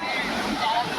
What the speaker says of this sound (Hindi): अब पानी आ रहा है, इधर तक पहुंच गए देखो।